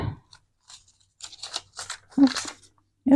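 Scissors cut through a paper bag in a series of crisp, close snips and crinkles, separated by short quiet gaps, with a louder cluster of cuts near the end.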